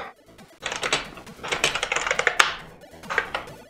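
Fast clattering keystrokes from a rewired mechanical keyboard running custom firmware, coming in dense uneven bursts with a few louder clacks and a brief pause before a final flurry, heard up close.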